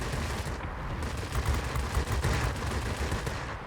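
Aircraft machine guns in the World of Warplanes air combat game rattle in a dense, continuous burst of rapid fire, loud and close throughout with slight surges in intensity.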